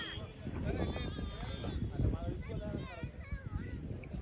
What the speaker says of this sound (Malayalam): ഷീപ്പ് ചെമ്മരിയാട്.